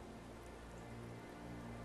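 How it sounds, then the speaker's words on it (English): Steady rain falls all around, a dense, even hiss of drops on surfaces, quiet and continuous with no voices. "with the rain falling all around them"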